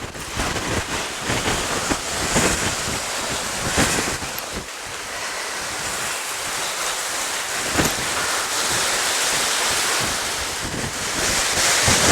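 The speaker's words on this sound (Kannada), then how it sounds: "ಎಷ್ಟು ಗಾಳಿ ರಭಸ ಇದೆ ಇಲ್ಲಿ" Strong, gusty wind at Gundal reservoir roars and buffets steadily over the whole stretch, with surf-like rushing underneath and no voices.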